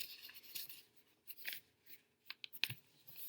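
Paper is folded and flipped by hand for a second-grade 3D umbrella craft, heard as faint, close rustles and crisp creases in short separate bursts with quiet gaps between them.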